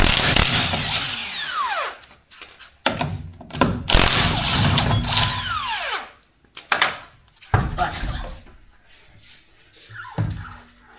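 Power drill at construction work on a country house, running in several loud bursts of a second or two each, whining up and down with sharp starts and stops, separated by quiet gaps.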